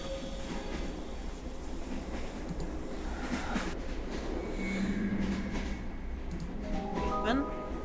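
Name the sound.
train running, from a video game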